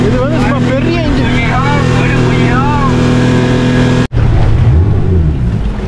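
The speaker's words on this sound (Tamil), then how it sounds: "பாருங்க என்ன ஸ்பீடில் போகுது அப்படின்னு." A big-engined speedboat runs fast past an island on open water in Vietnam, its steady loud drone and hull rush close and continuous, with a person talking over it in a lively voice and a brief cut near the end.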